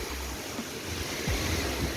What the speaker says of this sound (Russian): Очень сильные волны.